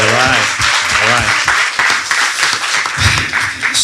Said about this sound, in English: Give them a little round of applause right there.